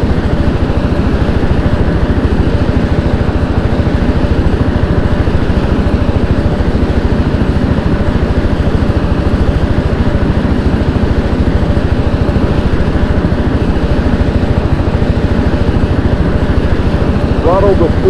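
A Mi-24 Hind helicopter engine warms up in a flight simulation game, a loud steady turbine drone with low rumble throughout, no pauses.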